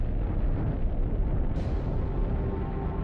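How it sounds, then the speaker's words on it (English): A gamma-ray burst is depicted with a deep, rumbling explosion effect, a loud sustained low roar that swells and keeps churning for several seconds with no voices. "This is a gamma-ray burst, the biggest explosion to rock the universe since the Big Bang."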